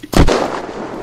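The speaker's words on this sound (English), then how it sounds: "I shot you so many times, Evan." A single loud, sharp gunshot from the video game Unturned, a hard crack followed by a booming decay that trails off over about a second, heard on its own without talk.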